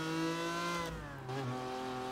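A Lancia Stratos rally car in the racing game Gran Turismo Sport drives with a steady, buzzing engine note that dips briefly as it shifts, then settles back to a sustained drone.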